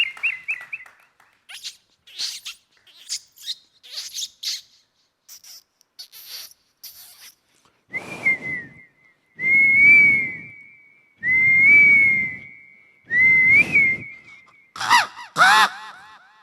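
A boy imitates a series of different bird calls with his voice. Quick chirps and squeaks come first, then several longer, sustained whistled notes, and the sequence ends with a few sharp calls, all without talking.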